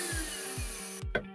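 Household electric drill fitted with an old coffee grinder blade spins up to maximum speed, whining with a steady high tone, with three low thuds at intervals and a short clatter as it cuts out.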